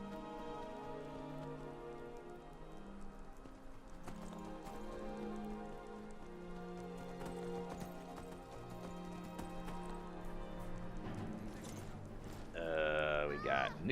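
Horse hooves clip-clopping at a walking pace in the video game Skyrim, a steady rhythmic plodding under soft background music and ambience, with a brief louder burst near the end.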